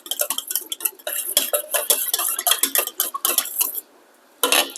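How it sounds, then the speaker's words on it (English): Metal whisk clattering rapidly against a bowl while sauce ingredients for lentil sloppy joes are mixed, a busy run of close, bright clinks and scrapes that stops briefly before one last burst. "I do prefer to whisk this together in a bowl separately and ahead of time"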